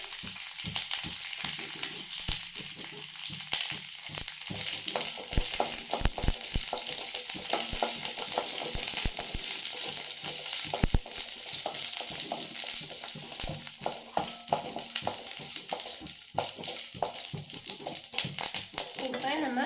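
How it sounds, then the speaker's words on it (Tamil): Oil sizzles and crackles steadily in a pan, with little popping bursts as mustard seeds, curry leaves and chillies fry, while a person talks over it. "கடுகு பொறிஞ்ச உடனே கருவேப்பிலை ரெண்டு மிளகா போட்டுக்கலாம்"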